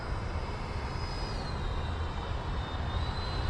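A Freewing T-45 Goshawk 90mm electric ducted-fan RC jet flies at a distance, a steady airy whoosh with a thin high whine that gently shifts in pitch as it passes.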